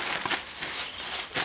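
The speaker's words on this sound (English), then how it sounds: "So I fluff it up in here into this big scoop," Chick brooder bedding being fluffed up into a big scoop gives a short burst of dry crinkling and crunching rustle, close and fairly steady, with no talk.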